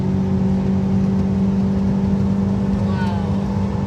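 Mitsubishi Town Box turbo kei van accelerating, a steady engine drone with a rising whine near the end, loud and continuous with no talk.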